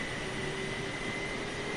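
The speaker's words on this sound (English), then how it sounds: "big aeroplane" A big airliner's engines hum as a steady, loud drone in Microsoft Flight Simulator 2020, an even broadband roar with a faint high whine and no talking.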